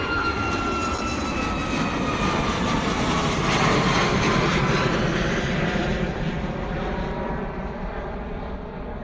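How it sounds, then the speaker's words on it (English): A TUI Boeing 737 departs Bristol Airport, its jet engines a loud, steady roar that swells at the middle and eases slightly as it climbs away. "Beautiful departure there from the TUI Boeing 737, heading out to Rhodes this morning"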